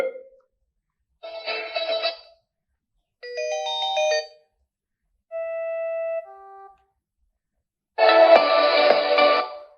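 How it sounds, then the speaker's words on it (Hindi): Ringtones play from an E-Tachi Music E10 phone speaker: five separate short melodies of chimes and electronic tones, each a couple of seconds long with silent gaps between, the last one louder and fuller. "जी, रिंगटोन्स की आवाज़ भी ठीक है,"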